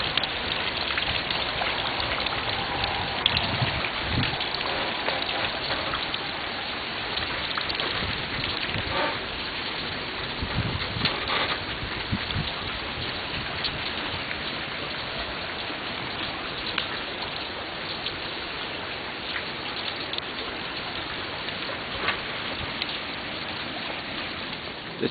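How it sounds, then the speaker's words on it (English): Steady rain falls on a sunny day in a suburban neighborhood, a continuous even patter of drops on surfaces that holds at a constant level throughout, with no voices. "and it's raining"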